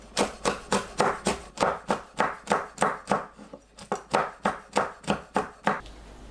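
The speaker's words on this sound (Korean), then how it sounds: "파, 청양고추, 홍고추는 으쓱 썰어주세요." A knife chops steadily through green onion and green and red chili peppers on a cutting board, about twenty quick, even, close thuds with a brief pause midway, no talking.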